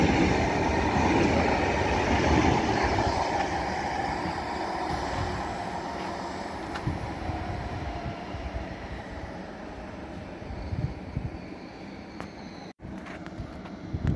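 Train pulling in at a platform in a Łódź station, a steady rumbling roll of rail cars that slowly eases off, with a brief sharp knock near the end and no talk.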